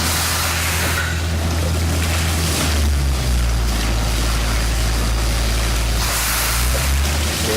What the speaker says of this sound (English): There's our dirty water coming out.